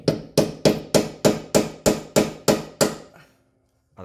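A hammer drives a chisel against a stuck part on a Nissan R32, about ten sharp metallic blows in a steady rhythm, close and loud, then the ringing stops.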